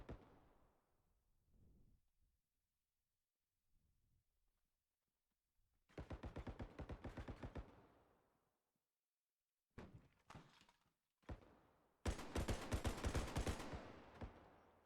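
Gunfire in the realistic first-person shooter Bodycam, with rapid automatic bursts of sharp, loud shots in clusters separated by quieter stretches, including a few isolated single cracks before a final sustained volley.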